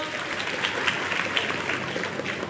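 An audience at a felicitation event for meritorious students in the Karjat Khalapur constituency gives loud, dense applause. Many hands clap together in an even, sustained roar for the whole stretch.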